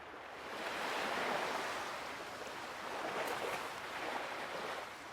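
Ocean waves roll onto the shore in Beyond the Edge of Owlsgard, a soft, steady broadband wash that gently swells and recedes, distant and faint, with no voices.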